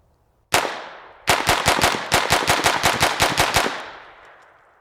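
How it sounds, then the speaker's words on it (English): A SIG P322 .22LR pistol fires CCI rounds, one shot and then a rapid string of about a dozen sharp, evenly spaced reports in quick succession, loud and close, fading into a brief ringing tail. "let's first just dump about 10 of these and see how it handles a mag dump with the CCIs"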